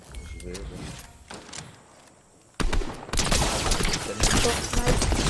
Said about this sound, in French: Ah, ça tire là-bas aussi.